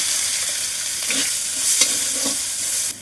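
Chopped onion hitting hot oil in a karai already holding whole cumin, dried chilli and bay leaf, a loud continuous sizzle broken by a few scraping stirs.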